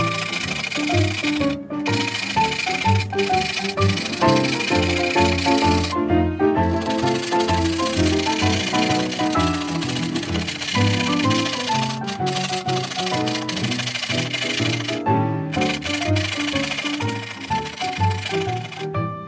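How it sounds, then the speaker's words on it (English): Pneumatic file removing the textured surface from a model railway baseboard, a continuous close rasping buzz with rhythmic pulsing strokes and a few brief pauses. "using my pneumatic file to remove the textured surface and get back to the baseboard level"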